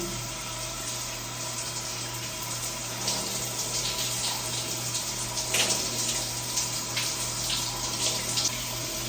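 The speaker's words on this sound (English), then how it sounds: "I'm just going to show you the beginning of wetting down my hair" Shower water runs in a steady, dense hiss while someone wets down long curly hair, the spray shifting slightly as it hits hair and skin.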